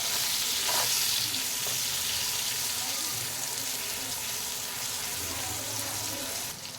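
Eggplant pieces frying hard in oil over a high gas flame, a steady, loud, dense sizzle that holds evenly throughout with faint clinks of stirring beneath it.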